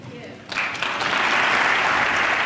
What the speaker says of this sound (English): Good applause line